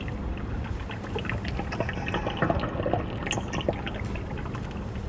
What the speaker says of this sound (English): Sounds like water flowing underneath the stones here.